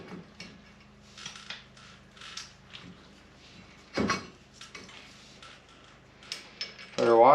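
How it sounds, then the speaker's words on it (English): Metal parts clink and rattle as a front wheel hub is fitted back onto a Polaris RZR during a brake and wheel bearing upgrade, with scattered close taps, one heavier clunk and a brief squeaky scrape at the end. "Put our hub back on."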